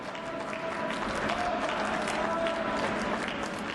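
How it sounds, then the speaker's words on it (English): Crowd applauding at a curling match at the 2014 World Senior Curling Championships, a steady wash of clapping that holds evenly throughout at moderate distance, with a faint tonal hum running underneath. "The crowd are applauding, they know it's good."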